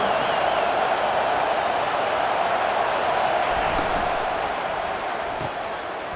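A stadium crowd roars continuously at a college football game between Fresno State and Kansas in the College Football 25 video game, a loud, dense, sustained cheer with no clear talk.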